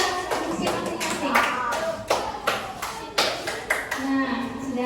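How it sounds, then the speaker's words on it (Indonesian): A classroom of students applauding two classmates, a sustained patter of many small hands clapping with voices mixed in, moderately loud and close throughout. "Beri tepuk tangan untuk Uyun dan Azam."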